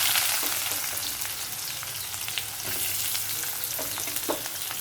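Onion, ginger and green chili frying together in hot oil after mustard and fennel seeds: a steady, close sizzle with scattered crackles and stirring scrapes running through the whole stretch, with no voices.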